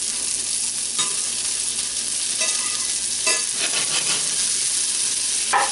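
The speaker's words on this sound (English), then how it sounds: "I'm going to throw a little butter in there" Butter sizzles in a hot pan, a close, continuous hiss with a few louder crackling bursts, no voices.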